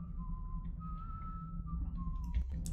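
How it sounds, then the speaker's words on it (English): A game character whistles a slow, wavering tune in Thief, the thin steady tone carrying over a low ambient hum, with a short clatter near the end. "Whistling."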